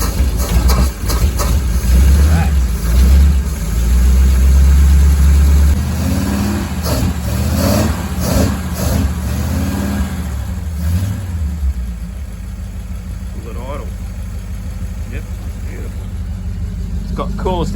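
Engine of a VG Hardtop with an electric fuel pump and an exhaust that dumps in front of the diff, a loud rumbling idle with several revs in the first twelve seconds, then a steadier quieter idle, voices talking over it.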